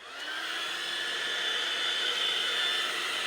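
A two-speed hair dryer blows steadily to dry wet watercolour paint on a landscape painting, a constant close whooshing airflow hum that starts abruptly and holds level throughout, with no talking.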